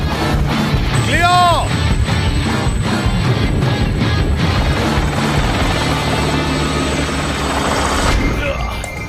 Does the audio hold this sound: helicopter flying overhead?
yes